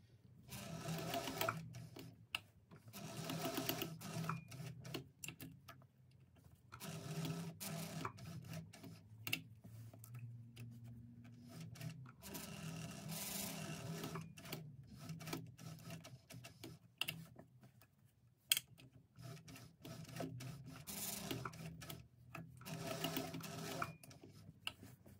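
A sewing machine fitted with a zipper foot stitches a bag's exterior panel across a D-ring, running in repeated bursts of rapid mechanical stitching separated by short pauses, close and steady.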